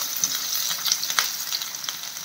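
Close sizzling and crackling of garlic, onion and curry leaves frying in hot oil, with brief stirring scrapes, steady and loud.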